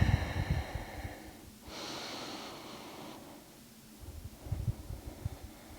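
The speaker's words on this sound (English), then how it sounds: "we're taking some deep breaths down into that area" Slow, deep breaths in and out during a pelvic floor exercise, close to the microphone and soft, as two long airy breaths separated by a quieter pause, with faint rustling and low thumps.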